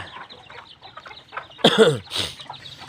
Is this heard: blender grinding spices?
no